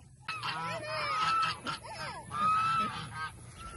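Harsh, repeated honking calls from several guinea fowl, loud and close, overlapping in noisy bursts with short pauses between.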